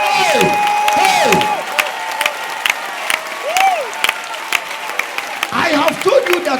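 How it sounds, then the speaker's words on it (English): Crowd at a church gathering breaking into applause with cheers and shouts, a burst of clapping that fades and returns in scattered bursts, with voices calling out over it. "Whilst you are clapping your hands"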